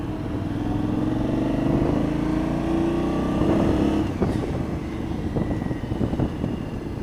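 Aprilia Shiver 750 motorcycle ridden home, its engine droning steadily and rising in pitch under acceleration, close and loud with wind rush throughout.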